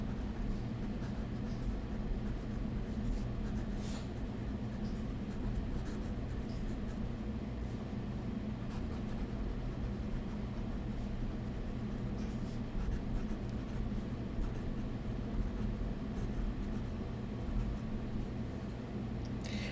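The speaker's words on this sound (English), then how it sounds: "So I will do just a small writing sample here." A broad italic fountain pen nib, an Esterbrook Estie with a custom grind, scratches across paper in soft, continuous strokes, faint and close against a low steady room hum, with no talking.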